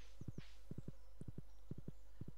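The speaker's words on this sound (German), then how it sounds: "Dann bringen wir das Pferd zurück" A horse's hooves clip-clop in the farming video game Stardew Valley. The paired hoofbeats fall in a steady, even walking rhythm throughout, quiet and alone with no talk.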